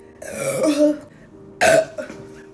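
Two loud, throaty burps, the first long and drawn out, the second shorter and sharper, close by with a faint hum between them.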